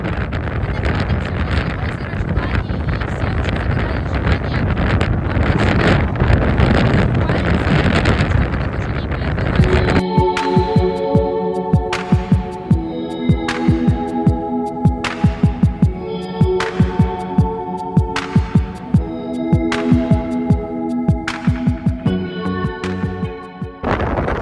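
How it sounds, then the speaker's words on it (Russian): Strong sea wind at Ras Mohammed, Egypt, roars and buffets the microphone for about ten seconds, then gives way to steady tonal music with a rhythmic beat. "Сейчас послушайте Асю, услышите, какой реально ветер страшный."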